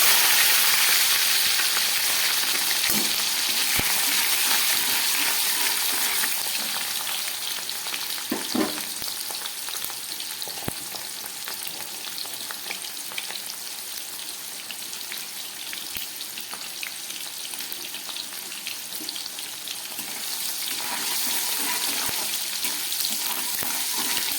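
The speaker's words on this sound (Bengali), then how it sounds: "আর দিয়ে দিচ্ছি একটু ক্যাপসিকাম আর টমেটো।" Capsicum and tomato fry in hot spiced oil, a dense continuous sizzle that runs loud and steady throughout, marked by occasional scraping taps of a spoon, with no voices.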